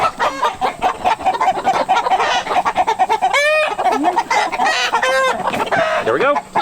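Several homestead chickens clucking and squawking close by, with a rooster-like crow rising midway and another call later, busy and continuous.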